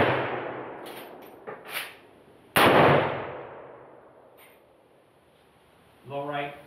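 A single sharp rifle report from a Bergara B-14 Wilderness Terrain in 6.5 Creedmoor fitted with an Area 419 Hellfire muzzle brake, loud and close with a fading tail, preceded by faint clicks and followed by a brief murmur.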